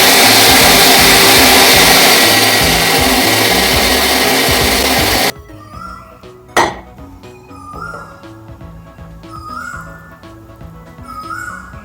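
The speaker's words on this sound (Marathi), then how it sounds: "मिक्सरच्या भांड्यामध्ये घालून अगदी पूर्णपणे तांदूळ वाटून घेतलेला आहे" Soaked rice ground into a fine paste in a mixer grinder jar: a loud, steady motor whir runs for about five seconds and then stops abruptly, followed by a few light clinks of the jar and lid.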